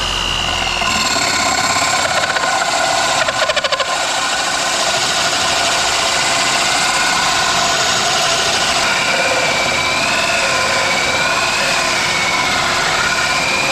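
A power drill whines steadily at close range while drilling through fiberglass and plywood, its pitch shifting slightly as it bites through material, with a constant motor hum and a dust vacuum running throughout.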